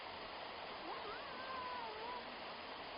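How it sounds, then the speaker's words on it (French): Waterfall in the Vosges mountains, a steady broad rush of falling water heard up close, with a faint whistle-like tone drifting over the roar. "Elle est belle cette cascade."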